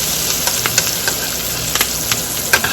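A New York strip steak sizzles loudly in a tilted pan with garlic and thyme while being basted, a dense steady hiss broken by sharp spoon-and-spatter crackles.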